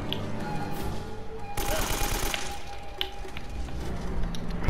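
A submachine gun fires in the Uncharted video game, a rapid burst of shots dense and loud amid continuous in-game action noise, with scattered impacts and cracks after it.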